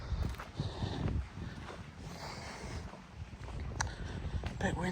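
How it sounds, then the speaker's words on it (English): Wind blowing outdoors near an old water mill, rough low rumble and gusty buffeting against the microphone, steady and fairly loud, with a few brief faint sounds over it. "A bit windy, you know"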